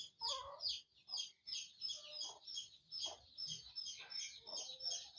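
Several chickens cluck and chirp close by, short overlapping calls in an uneven, chattering rhythm with brief pauses between bursts.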